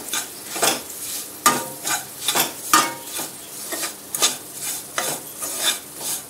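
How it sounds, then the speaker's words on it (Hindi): A spoon stirring semolina through cooked vegetables in a pan for vegetable rava upma, giving repeated scraping strokes at a steady rhythm, up close and fairly loud, with a faint sizzle underneath and no talking. "अब इसमें सूजी डाल देंगे।"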